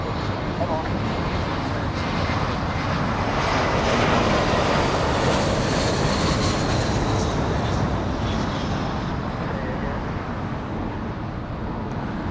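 A Spirit Airlines Airbus A320 arriving from Dallas at Los Angeles International Airport gives a steady, loud broadband jet roar that swells slightly midway and holds throughout, with a voice talking faintly underneath.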